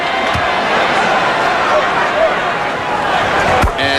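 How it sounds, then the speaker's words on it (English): Broad, steady crowd applause fills a packed arena during an NBA playoff basketball game as a player sits down, with a commentator talking over it and a brief thump near the end. "Chambers sits down to a big round of applause"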